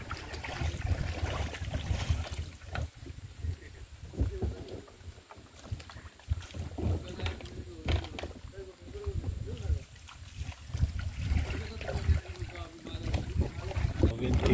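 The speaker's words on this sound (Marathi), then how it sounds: "बोट येत आहे." A motor boat approaches across open water on a lake outing, its engine drone steady beneath constant wind buffeting and lapping water, with people talking nearby throughout.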